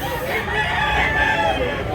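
A rooster crows in a sustained call close by, loud and alone, with faint farmyard background.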